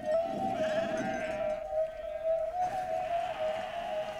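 Sheep bleat in long, wavering, tonal calls that come in a couple of drawn-out stretches with a short pause between them, close and clear, with no talking.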